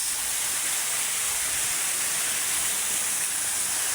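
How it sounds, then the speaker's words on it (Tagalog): Waterfall at Rainforest Park in Pasig, a steady, loud broadband rush of falling water with no breaks and no voices. "Wow, waterfalls."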